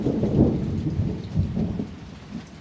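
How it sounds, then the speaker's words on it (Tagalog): Thunder rumbles close and heavy over a small farm during a rainstorm, deep rolling booms swelling and fading over steady rain. "Ang lakas po ng kulog."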